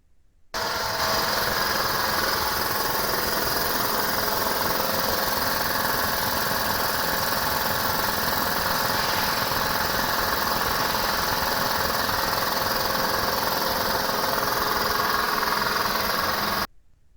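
Recorded drill noise played back in a classroom, a continuous harsh mechanical buzz at constant loudness that starts abruptly, runs about sixteen seconds alone, and cuts off.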